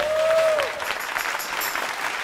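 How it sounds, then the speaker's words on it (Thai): Studio audience applause greets a contestant on a Thai comedy show, a brief wash of clapping that follows a short rising tone. "ขอเสียงปรบมือต้อนรับพี่เป"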